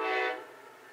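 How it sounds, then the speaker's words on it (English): An Amtrak train horn sounds briefly and loudly, then fades quickly as the train passes. "That was an Amtrak train."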